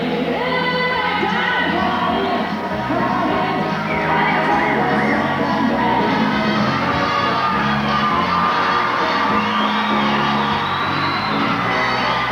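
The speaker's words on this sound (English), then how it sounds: "you can hear the crowd really cheering for their favourite couple tonight" At a 1990 Australian dancesport championship, a crowd cheers and whoops for a couple, loud sustained yelling and shouting over music that holds steady throughout.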